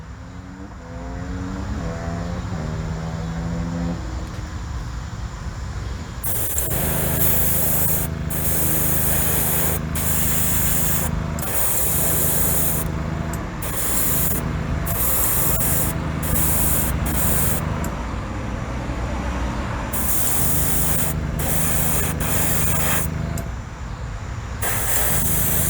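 Spray paint hisses onto a 1971 Hot Wheels Datsun 510 body in bursts of red, with steady close bursts alternating with short pauses.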